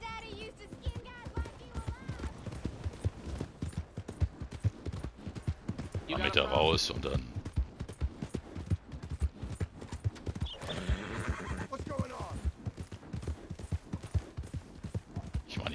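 A horse's hooves clop in a steady trotting rhythm while riding in Red Dead Redemption 2 Online, with two loud whinnies partway through and someone speaking German briefly at the start.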